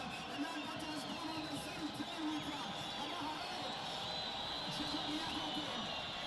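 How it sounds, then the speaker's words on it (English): Football crowd at a stadium for a Scotland FC vs Black Mambas ZIFA Northern Region Division One match, a steady far-off roar and murmur filling the whole stretch under a commentator's voice. "Listen to the roar of the crowd."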